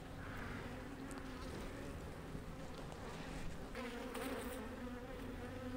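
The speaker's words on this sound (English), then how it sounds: "the bees are a little grumpy" A dense, continuous hum of many honey bees buzzing close by at an open hive, steady and droning throughout, with no one speaking.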